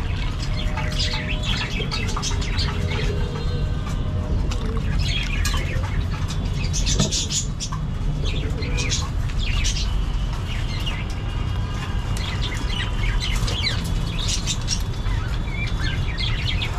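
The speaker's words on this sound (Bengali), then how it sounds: "ওকে, কবুতর খায়।" Pigeons being fed a mixed feed, with bird calls, soft cooing and bursts of wing flapping close by over a steady busy background.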